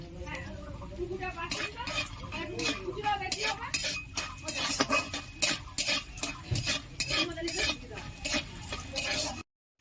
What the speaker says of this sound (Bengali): এতে আমি ডালের বড়িগুলো ভেজে নেব।